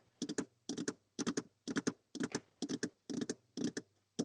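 Someone types on a computer keyboard in quick clusters of key clicks that repeat in a regular rhythm about twice a second, close and clear in a quiet room.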